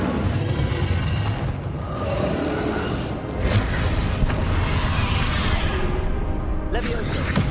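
Confringo explosion spells in the game Hogwarts Legacy, with dense booming blasts and whooshes rolling into each other, loud and continuous, with voices shouting over the action.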